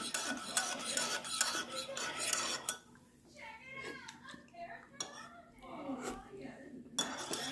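A pumpkin spoon stirs a drink in a cup, giving a few scraping, clinking strokes with someone talking over and between them at close range.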